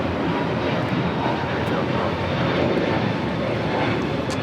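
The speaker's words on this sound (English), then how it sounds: "This is Delta Airlines 1179 taking off to Tampa, Florida on an A321neo" A Delta Airlines Airbus A321neo jet takes off at LAX with a loud, sustained engine roar that holds steady throughout, with faint voices underneath.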